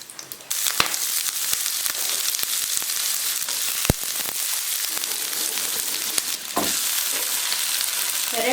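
Cinnamon, cloves and pepper fry in a spoonful of oil in a frying pan, giving a loud, continuous sizzle with scattered pops and crackles throughout.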